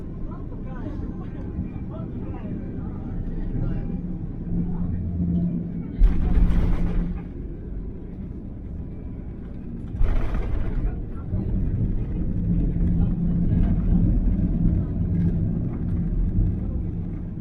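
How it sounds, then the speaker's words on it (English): Cabin of a Saudia Airbus A330-300 landing in Jeddah, a steady low engine and airflow rumble with two brief louder bursts of noise partway through, heard from inside the aircraft. "let's finally enjoy the landing in Jeddah"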